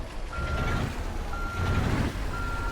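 Ford Cargo 2520 truck reversing on a mountain road: three evenly spaced reversing beeps, each about half a second long, sound over the steady rumble of the diesel engine.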